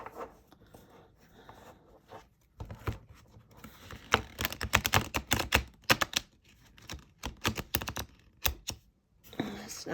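A Little Monsters tarot deck being shuffled by hand, its cards giving bursts of quick riffling clicks and flutters between quiet pauses, close and fairly soft.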